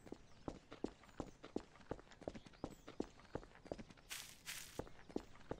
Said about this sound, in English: Do you hear like footsteps when we get close?